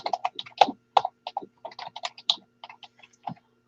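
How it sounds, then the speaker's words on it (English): Rapid typing on a computer keyboard: irregular bursts of crisp key clicks, close and fairly loud, with short pauses between runs and no talking. "Hopefully my typing is not like crazy loud."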